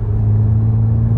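Low, steady grunt of an Audi S5 coupe's supercharged V6 engine cruising in fifth gear around 2,200 RPM, a loud, close, deep rumble with no voices.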